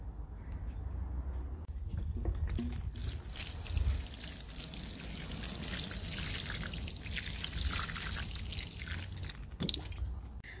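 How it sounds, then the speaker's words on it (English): Water is poured onto soil in a pot with freshly sown Egyptian spinach (saluyot) seeds, giving a close, steady splashing trickle that swells and fades for about ten seconds, with faint background noise and no speech. "And then we are going to water this."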